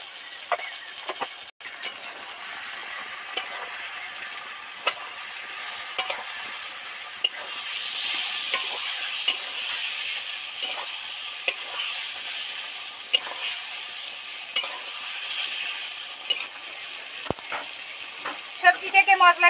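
Ridge gourd and other vegetables fry in oil with chili powder and turmeric, giving a continuous close sizzle broken by regular spatula scrapes and taps against the pan. A quicker burst of clatter comes near the end.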